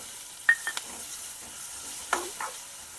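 Onions and tomatoes frying in a pan for spiced leftover khichdi give a quiet, low sizzle. A few sharp stirring scrapes and clicks sound close by, and there is no talk.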